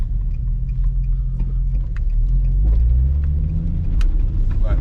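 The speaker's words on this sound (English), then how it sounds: "we're just going to take it for a little test drive" Nissan G35 driving on a test run, a loud steady low engine rumble with road noise and a slight rise in pitch as it picks up speed, small clicks and knocks scattered throughout.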